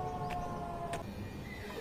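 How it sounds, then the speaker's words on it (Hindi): Siren sounding at 8 o'clock near a residential area, a steady tone under street noise with a couple of brief clicks. "सुन रहे हो सायरन, 8 बज गया।"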